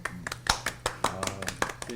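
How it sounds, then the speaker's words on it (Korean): Brief scattered hand claps from a small audience at a Korean traditional liquor festival talk session, a few sharp irregular claps over a low background hum. "박수 한번."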